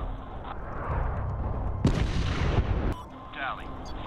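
Artillery strike in Medal of Honor (2010) video game: heavy booming blasts and rumbling explosions, with a large impact near the middle, over continuous battlefield noise.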